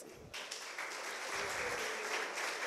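An audience at a coaches' felicitation ceremony bursts into steady, fairly close applause that carries on without pause to the end.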